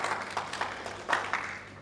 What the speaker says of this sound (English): Let's give our media team a big clap, can we?